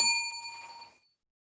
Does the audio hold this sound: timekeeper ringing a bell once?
yes